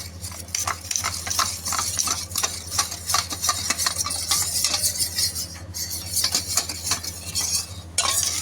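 A utensil scrapes and clinks rhythmically against a bowl, stirring flour into water with rapid repeated strokes close up, with no talking.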